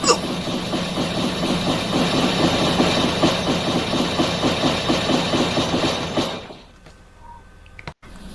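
Train from a train mod in a video game, running with a loud, steady clickety-clack rhythm and engine drone that stops abruptly after about six seconds, leaving near silence.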